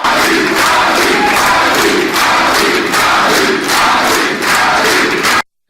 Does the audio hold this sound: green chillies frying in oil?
no